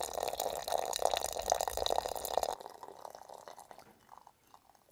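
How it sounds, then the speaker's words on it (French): Hot water poured from a container over herbs for herbal tea gives a steady, close liquid splashing for about two and a half seconds, then fades to a quiet trickle and drips. "Nous allons mettre ça dans un petit récipient là pour verser là-dessus de l'eau"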